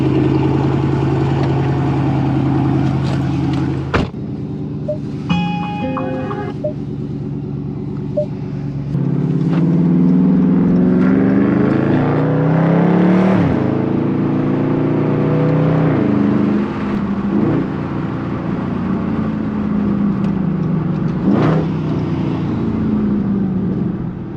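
A 2020 Dodge Charger 392 Scat Pack wide body is driven on a canyon road, its V8 engine and exhaust droning steadily, then rising and falling as it accelerates and shifts, loud and continuous with no talking.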